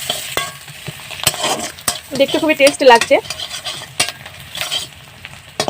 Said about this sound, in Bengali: যাতে পেঁয়াজটা একটু ভালো করে ভাজা হয়